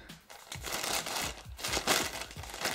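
A plastic shipping bag from a Chinese online shop, delivered by FedEx, crinkles and crunches close up in a steady run of handling noises, with no talking.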